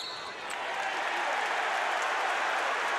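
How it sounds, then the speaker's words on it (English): A basketball arena crowd at a Utah State at Boise State college game reacts to the referees with a steady, loud roar of voices that swells slightly and holds. "Crowd giving some encouragement to the refs."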